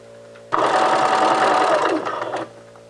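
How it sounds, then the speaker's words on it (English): A sewing machine stitches around a dress neckline in one continuous burst of about two seconds, a loud, close, rapid mechanical whir that starts abruptly and cuts off, with a faint background hum before and after. "I'm going to back stitch and just sew all the way around, making sure that your edges are even."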